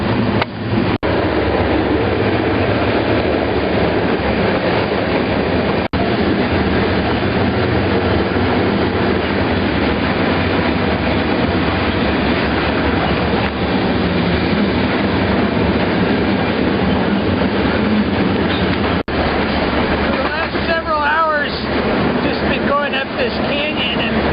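A freight train rumbles steadily along the tracks, heard from aboard, loud and close, with a continuous roar and faint clatter throughout and a squealing scrape near the end.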